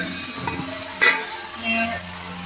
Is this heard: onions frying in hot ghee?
yes